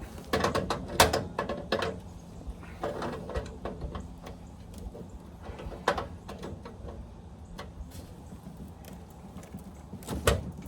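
A part is tightened with a hand tool, giving close, irregular metallic clicks, ratcheting and clanks in uneven bursts with quieter pauses between them.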